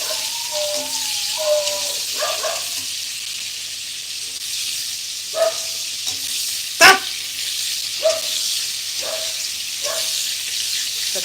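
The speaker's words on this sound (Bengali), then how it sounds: "পটলগুলো দিয়েছি, ভাজতে কতক্ষণ সময় লাগে?" Pointed gourd (potol) frying in hot oil in a pan over a full gas flame gives a steady, close sizzle. A few sharp stirring clacks punctuate it, and a brief voice is heard.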